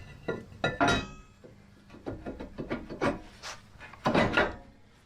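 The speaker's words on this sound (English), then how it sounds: "just a little bit of brake cleaner. I'm gonna wipe off the rotor." A cloth wipes a brake rotor after a spray of brake cleaner. The rubbing comes close and in short, uneven scrubbing strokes.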